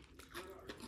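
Crispy fried boneless chicken with cracker-like crunchy batter, from hotel room service, is bitten and chewed. Faint, close crunches sound in quick succession.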